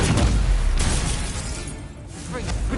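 Loud blasting explosions from a fire spell in the Hogwarts Legacy video game burst out in quick succession, with bangs and shattering debris and a brief lull, under a voice shouting spell names.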